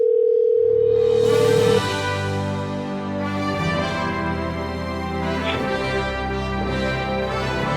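A phone call being placed: a steady dial tone runs for about two seconds, then gives way to dialing and ringing tones with layered harmonic beeps that continue for several seconds, with no talk.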